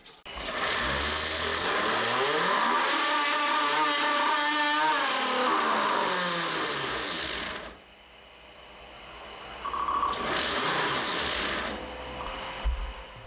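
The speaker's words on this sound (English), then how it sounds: "I continued and attached the new glove to the compressor and started test again." 3D printed axial compressor spinning up on a test rig, a loud whining, buzzing roar that climbs and holds for several seconds, cuts out, then runs briefly again in a second shorter burst.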